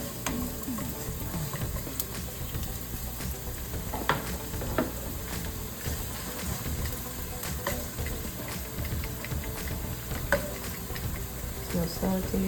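Red lentil dahl ingredients sizzle steadily in a hot pan, a continuous crackling hiss with occasional pops, fairly close.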